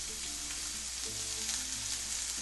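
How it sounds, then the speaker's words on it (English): Onions and mushrooms sauté in a pan for a deep-dish pizza filling, giving a steady, soft sizzle and crackle throughout, fairly quiet and uninterrupted. "we are going to start by just sauteing the onions and mushrooms together"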